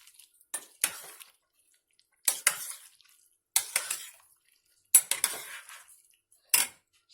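A spoon stirs chickpeas into a pot of ashure in separate bursts of clinking and wet scraping against the pot, close by, with silent gaps between strokes.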